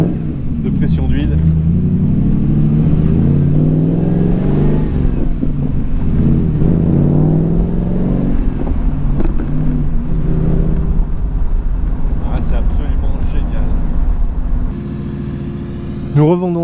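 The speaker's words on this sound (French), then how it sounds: "la sonorité de l'échappement, c'est génial, c'est franchement incroyable" Exhaust of a Morgan Plus 8 idling: a steady, deep, loud rumble that runs throughout, with someone talking over it most of the time.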